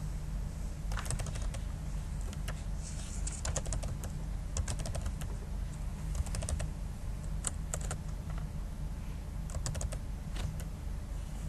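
Steady, quiet clatter of keys on a computer keyboard while payment details are entered in an online point-of-sale application, with irregular bursts of keystrokes and no talk.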